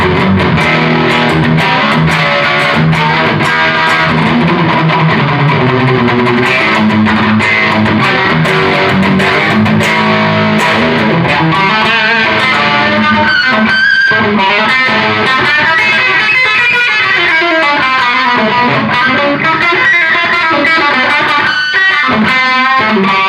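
Spirit by Steinberger headless electric guitar played through heavy distortion, loud dense rock chords and riffs sounding alone and continuously throughout.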